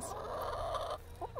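Backyard chickens cluck softly against a low, steady background hum, with a few short clucks toward the end.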